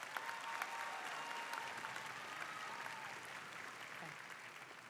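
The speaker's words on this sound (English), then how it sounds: "Give yourself a round of applause." Graduating class and audience at a high school commencement ceremony clapping in a sustained, even round of applause, moderately loud and filling the whole moment without a break.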